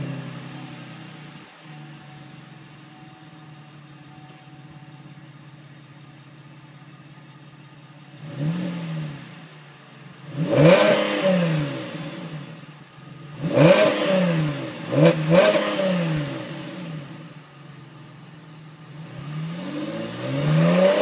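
A Chevrolet Camaro on its stock exhaust sits at a quiet idle, then gives several sharp revs in separate bursts, each rising and falling back, with a final rev climbing at the end.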